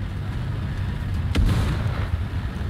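A single tank cannon shot from an Obj. 906 in the video game War Thunder: one sharp, loud blast that decays into a low rumble over steady background noise.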